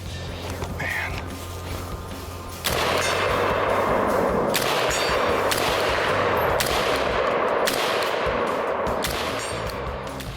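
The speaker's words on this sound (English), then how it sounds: "The firing sound is crisp and powerful." An XM7 rifle fires a series of sharp, loud cracks at irregular intervals, each shot ringing out against a dense, noisy background after a quieter opening.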